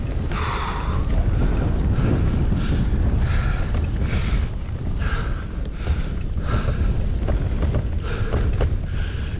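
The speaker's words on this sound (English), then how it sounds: "Could have done without the wind today" Wind roars into the microphone while a rider cycles along hilly roads, a constant heavy buffeting rumble with gusts swelling and fading, close and loud, with no voices.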